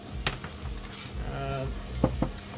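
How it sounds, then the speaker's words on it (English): Frozen corn kernels tumble into a hot pan of Mexican rice, giving a soft sizzling clatter with a few sharp ticks and scrapes of stirring, close and moderately loud. "Then in here, just going to add corn. These are just frozen corn kernels."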